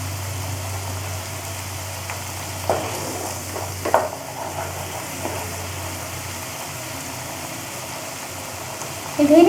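Bengali boneless fish kofta curry fries in a pan, an even sizzle over a low hum, broken by a few sharp scrapes and clinks of a spoon stirring, then a louder clatter at the end.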